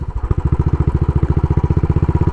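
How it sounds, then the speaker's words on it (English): A Royal Enfield Bullet Trials 500 single-cylinder motorcycle thumps close by with a loud, steady, evenly spaced beat, its rhythm quickening a little as it rides. "I'm certainly a fan of big thumpers like this one, a giant 500 single"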